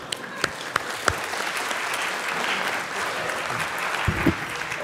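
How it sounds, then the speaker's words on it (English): Audience applause at an astronomy conference plenary session, a dense, steady wash of many hands clapping through the whole stretch, with a few sharper near claps early on and some low thumps toward the end. "I'd just like to clap for the anonymous,"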